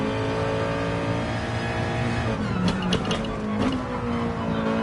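A racing car at full throttle in a racing video game, its engine holding a loud, steady high-revving drone with brief pitch shifts as it accelerates, and no talking.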